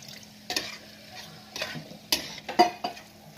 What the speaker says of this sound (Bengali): এখন আমি সামান্য একটু জল দেব।